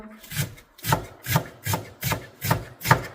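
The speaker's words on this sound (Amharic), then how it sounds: "ቀይ ሽንኩርት እዚህ ጋር ከተፍ ከተፍ እያደረኩ ነው" A knife chopping red onions on a board for Ethiopian meat stew, with seven or eight rhythmic, evenly spaced scraping strokes, close and alone.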